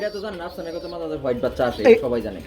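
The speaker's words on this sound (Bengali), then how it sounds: "এ হচ্ছে ব্রিজেল কবুতর" A pigeon coos in a low, throaty rolling call, close and fairly loud, mixed with a voice talking over it.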